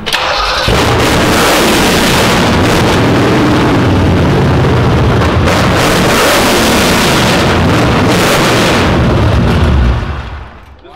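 A rare engine found in a barn, its carburetor not yet set, starts and runs, roaring loudly and close with a rough steady drone for about ten seconds before cutting off, no voices over it.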